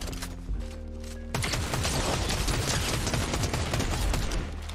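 Fortnite gunfire erupts after a short tonal game cue, then a loud sustained barrage of rapid shots and impacts continues to the end.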